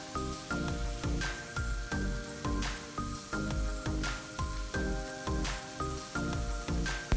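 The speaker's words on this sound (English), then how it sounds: "Fry it on both sides, and then you have your akara ready to eat." Almond akara fries in a pan, giving a steady close crackling sizzle with dense popping bursts and a rhythmic underlying pulse.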